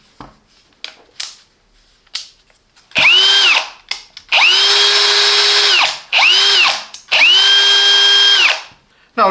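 An 18V Hychika cordless brushless hammer drill spins up in four separate high whining bursts, each ramping up, holding steady and winding down, with light clicks and handling noises before the first run.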